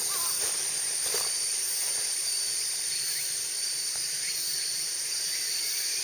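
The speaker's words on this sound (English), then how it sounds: "the cacophony of cicadas whirring in the trees all around me here" Dense, continuous high whirring of cicadas in the trees all around on a Japanese evening walk, a steady shrill wash with faint scattered chirps beneath it and no talking.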